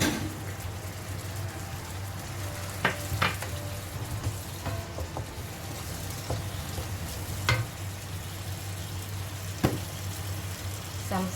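Green chili sizzles in a frying pan for plain biryani with chicken sambal, a steady crackling fry with a low hum beneath it and a few sharp clinks and stirring scrapes, and no voices.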